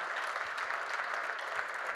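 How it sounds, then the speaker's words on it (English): Steady, dense applause from a crowd at the close of a 9-ball pool match at the 2022 Derby City Classic, continuous and even throughout with no voices standing out. "The crowd is thrilled."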